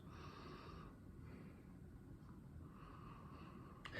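Someone takes faint, close sniffs of a glass of West Coast IPA beer, several short breaths in a quiet room.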